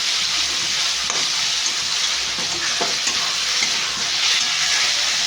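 Chicken pieces fry in a pan with a strong, continuous hiss and crackle, close and steady for several seconds, with a few soft knocks and stirring sounds.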